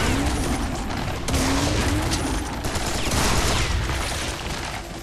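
Rapid bursts of gunfire and explosions from the Serious Sam 3 BFE shooter game, dense and continuous with a loud, crackling texture throughout.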